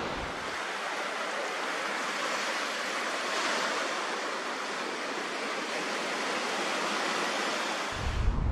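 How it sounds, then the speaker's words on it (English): Steady ocean surf and wind roar evenly and loudly throughout, a broad continuous wash of breaking waves with no voices. "The wind and the waves that Jesus spoke to, with the forthrightness appropriate to someone who is out of line, speak clearly enough on their own account"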